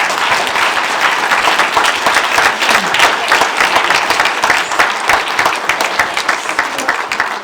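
An audience at an economy summit panel breaks into sustained applause, a dense steady wash of many hands clapping that carries on for several seconds without letting up.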